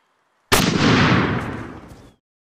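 A single loud gunshot fired at a deer during a hunt in a film, a sharp sudden crack that rolls into a long decaying echo over about a second and a half.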